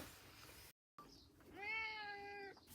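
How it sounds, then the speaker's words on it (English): A single drawn-out meow from a part-Bengal cat, fairly close and clear, rising then holding before fading, with a quiet background. "Uh-oh, here comes the other cat."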